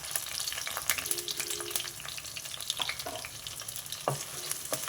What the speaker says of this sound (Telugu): కట్ చేసి పెట్టుకున్న ఉల్లిపాయలు పచ్చిమిర్చి వేసేసా.